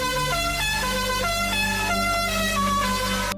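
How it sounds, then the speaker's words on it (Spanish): A Renault 4 car horn blares a melodic tune, steady stepped tones sounding one after another, loud and close with no talking. "Tocó un bocinazo que sonó con la melodía de la cucaracha."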